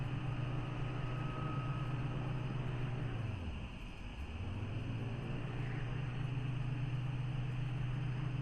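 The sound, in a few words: airplane engine in Kentucky Route Zero video game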